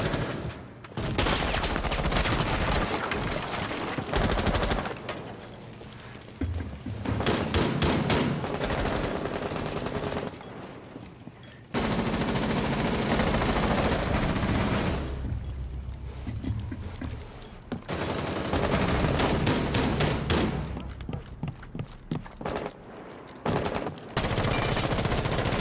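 Rapid bursts of automatic gunfire in a shooter video game, loud and close, fired in long sustained volleys separated by short pauses.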